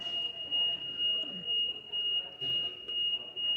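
A smoke alarm sounds a high, thin electronic tone that pulses repeatedly, with faint voices in the background.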